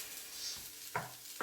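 Autumn risotto with chestnuts and squash being stirred in a pan, a soft faint scraping with a gentle sizzle underneath and two brief louder strokes near the end, no talking.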